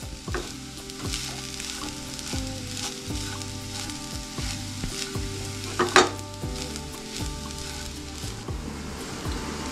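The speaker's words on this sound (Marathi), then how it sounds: "आता आपण याला मंद आचेवरती एकजीव करून घेऊयात।" Coconut barfi mixture stirred in a pan over low heat, with a steady close sizzle and repeated scraping strokes of the spoon against the pan, one louder clack near the middle.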